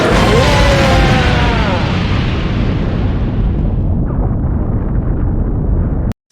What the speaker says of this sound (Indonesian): Stasiun pengujian meledak.